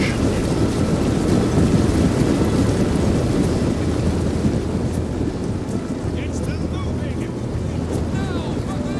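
A thunderstorm rages over a battle siege at the castle of Storm's End, with a steady, dense roar of wind and rumbling thunder filling the whole stretch without a break.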